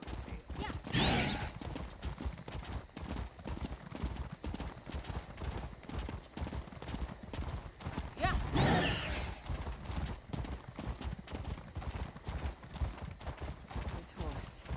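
Steady hoof clops from a walking horse in a video game repeat throughout, with a brief whinny-like burst near the start and another louder flurry partway through.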